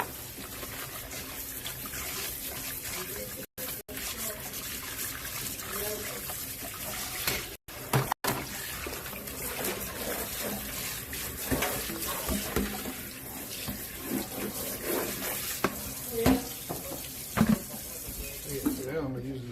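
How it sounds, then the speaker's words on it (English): Potatoes being scrubbed with a brush under a running kitchen tap, a continuous close water stream with intermittent scrubbing and splashing and a voice talking over it. "I gotta scrub the potatoes"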